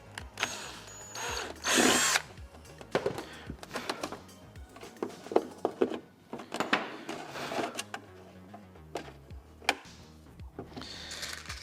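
A power drill drives small 4BA screws through the outer shell and faceplate of a TIE pilot helmet, with short bursts of whirring and clicks between pauses, close and clear.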